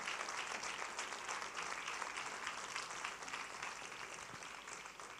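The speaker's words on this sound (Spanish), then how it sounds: "Fuerte ese aplauso" A church congregation at a Sunday service applauds in praise, a continuous even wash of many hands clapping at a steady level throughout.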